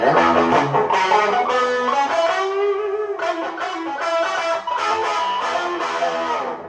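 Distorted electric guitar, an Epiphone Electar-10, playing a classic rock riff, loud and continuous, with chords and single-note lines ringing throughout.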